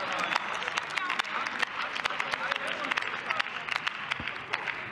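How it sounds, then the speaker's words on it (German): Members of the German Bundestag applaud in the plenary chamber, giving a crisp, continuous patter of clapping with voices underneath throughout. "Applaus"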